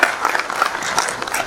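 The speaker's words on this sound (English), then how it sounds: "I would like us to give another round of applause to Director." A conference audience at an Africa business event gives a round of applause: dense, continuous clapping from many hands, steady and fairly loud throughout, with faint voices mixed in.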